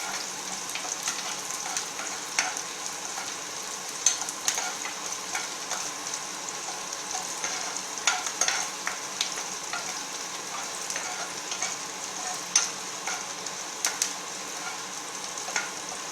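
Onions and other ingredients for egg kulambu sautéing in a pan, giving a steady close sizzle and crackle with scattered pops and occasional stirring scrapes throughout.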